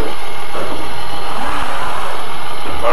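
A diesel autorail railcar engine pulls away and gains speed on a single-track rural line at Luzy, a steady broadband engine roar with a rising mid-range drone, no talk heard.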